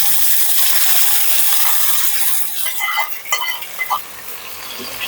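Moringa leaves tipped into a hot pan with chopped onion, giving a steady broadband frying hiss that softens midway, then scattered stirring scrapes and clicks close by, no talk.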